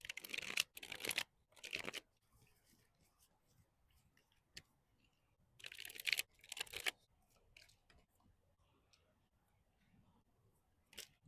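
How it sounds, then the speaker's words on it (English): Tarot card deck being shuffled by hand, crisp riffling bursts in two clusters separated by a quiet stretch, close and fairly soft, with no talk. "Let's shuffle your deck and see what this person secretly wants from you."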